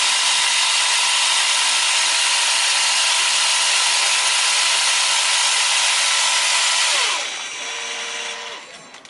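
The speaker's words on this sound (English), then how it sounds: "And then I can do my next drilling operation" A Desoutter smart drilling tool on a factory workstation runs a steady, loud, high-pitched drilling cycle for about seven seconds, then slows and winds down.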